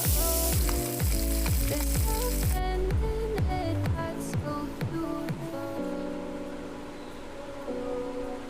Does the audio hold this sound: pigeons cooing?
no